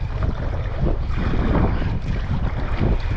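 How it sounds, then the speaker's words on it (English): Strong headwind roars across the microphone while waves slap and wash against a sea kayak on open water, a steady, loud rush with no voices. "by now the wind has been going on for a while"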